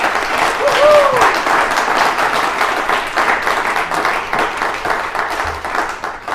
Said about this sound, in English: Let's give Amy a big round of applause.